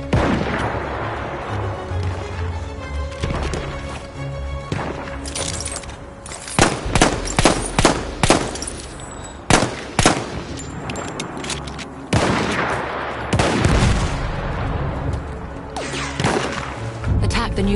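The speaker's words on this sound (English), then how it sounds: "Wait for the enemy artillery barrage to stop firing." Enemy artillery barrage in Battlefield 1, with heavy booms and blasts going off in irregular succession, some close and sharp, others rolling, over constant battlefield rumble, and voices are heard.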